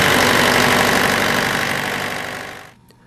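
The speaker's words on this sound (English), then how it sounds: "After the amps check is complete, the engine will preheat and start automatically." The diesel engine of an SB series transport refrigeration unit runs steadily and loudly after an automatic preheat and start, then cuts off abruptly near the end.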